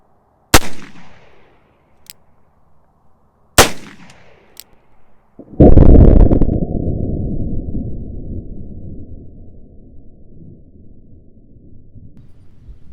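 A .36 caliber Griswold and Gunnison revolver fired outdoors: two sharp, loud single shots a few seconds apart, then a heavier blast that booms and rolls off in a long fading tail.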